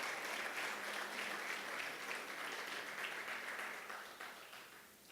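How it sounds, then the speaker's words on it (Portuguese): Church congregation applauding during a bishop's sermon, a dense continuous roar of many hands clapping loudly that holds steady, then thins and fades toward the end. "você pode aplaudir Jesus bem forte"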